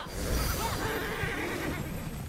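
A horse whinnies in the video game Immortals Fenyx Rising, a drawn-out neigh over a steady bed of game ambience, moderately loud and alone without speech.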